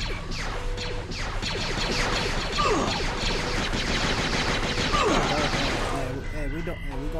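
Gunfire and blaster shots in Star Wars Jedi Knight II: Jedi Outcast ring out in busy volleys with swooping effects, while someone talks over the game.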